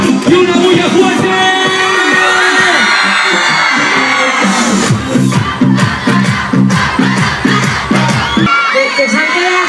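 A crowd at a live DJ event in Alcorcón cheers and shouts loudly over pounding music, with whoops and yells rising throughout and an MC voice calling out over the din.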